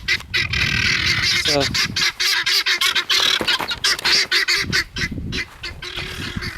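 Guinea fowl calling in annoyance near a rocket stove firing outdoors, loud harsh repeated honking cries that overlap and keep going, with a person speaking briefly among them.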